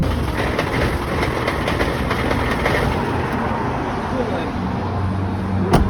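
A car engine restarted after an oil top-up, running rough on three cylinders and blowing white smoke, gives off a steady, close, dense rumble that holds unbroken for several seconds.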